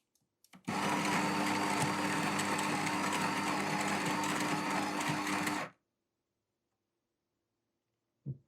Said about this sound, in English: If I push the lever the other way, then it's just like grinding on demand.